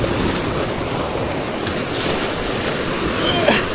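Sea waves wash steadily around a small fishing boat out on open water while a giant trevally is being landed, with wind buffeting the microphone and a brief knock near the end.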